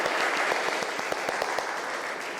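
Applause from students in a metalworking classroom lesson, a steady patter of hand claps with a few louder individual claps, lasting a couple of seconds nearby with no talking.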